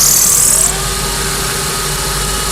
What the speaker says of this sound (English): we could go onto the trimmer